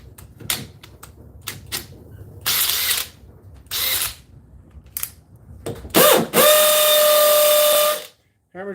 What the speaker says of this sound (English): Hammer drill sounds nice.